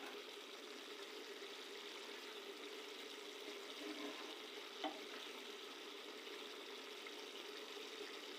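Goat brain frying with potatoes in oil gives a steady, moderate sizzle all the way through, with a few faint stirring clinks and one brief sharper knock near the middle.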